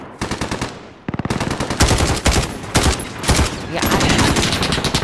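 Assault weapons firing in a video game, loud rapid automatic bursts and repeated shots filling the whole stretch with only short gaps; a voice speaks briefly.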